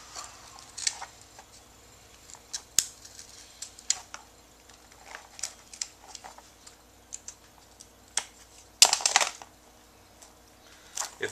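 Scissors trimming glove material around ferrite on clacker gloves, a series of small sharp snips and clicks at close range, with a louder cluster of cuts near the end.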